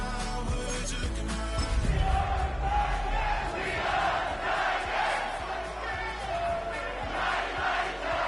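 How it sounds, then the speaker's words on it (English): A large football crowd fills Nissan Stadium in Nashville on a rainy day, a loud, continuous roar of cheering and shouting with rising swells and scattered yells. "A great crowd on hand to battle the raindrops at Nissan Stadium in Nashville"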